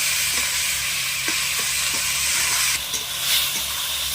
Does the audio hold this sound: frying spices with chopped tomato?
yes